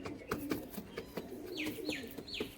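Pigeons cooing and calling close by among fanciers' birds, several soft coos and short sweeping calls with a rustle of wing movement, no talk.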